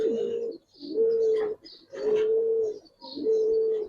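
Silver Giribaz pigeons coo nearby in four long, loud, rounded phrases separated by brief pauses, with no talking over them.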